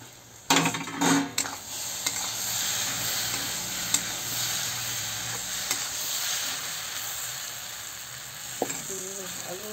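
Spiced jackfruit and potato curry masala sizzles and fries steadily in a covered pan, a continuous close hiss with a few stirring clatters near the start and end.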